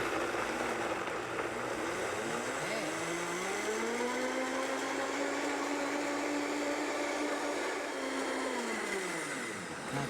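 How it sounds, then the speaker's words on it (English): A high-speed blender purees soaked nuts into a cream, its motor whirring loud and close as the pitch climbs, holds steady for several seconds and then winds down at the end. "So we're going to get started here and get this blending."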